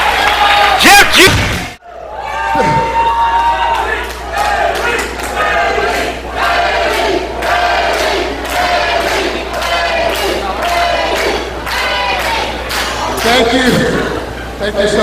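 Wrestling event crowd at an Anarchy Games match, loud sustained cheering and rhythmic chanting after a sharp slam, with someone speaking over it at the start.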